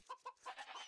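Chickens clucking in the strategy video game Age of Empires II, a few short nasal clucks in quick succession, faint and close, with no talk over them.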